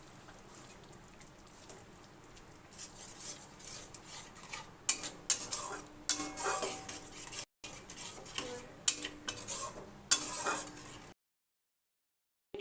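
A spoon clinks and scrapes in a small bowl while chicken momo chutney, sweetened with a spoonful of sugar, is mixed, with irregular metallic taps over a quiet background before the sound cuts to silence.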